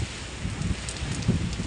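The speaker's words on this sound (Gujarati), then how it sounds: "હવે વરસાદ વધતો જાય છે।" Rain during a storm at a rural spot, a steady broadband hiss with wind rustle that keeps building, no voices heard over it.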